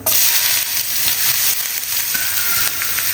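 Chopped onions frying in hot ghee and oil for oats upma, a loud steady sizzle with faint stirring scrapes, close and continuous with no talk.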